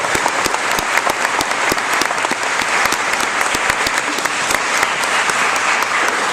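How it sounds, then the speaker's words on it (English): Loud, steady applause from an audience at a high school graduation ceremony, a thick wash of clapping with sharp individual claps standing out, continuing throughout. "And you want to get applauded."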